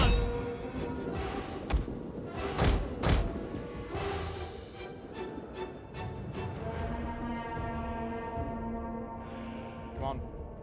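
Repeated heavy thumps and thuds of ballista shots ring out amid a dense Total War Rome II battle din, with several strong impacts early and the barrage tapering off toward the end.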